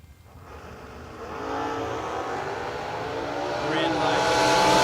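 Drag race cars launching at a Friday memorial drag race, a black Camaro in the right lane: engine roar swells and climbs steadily in pitch and loudness over several seconds, close and dense.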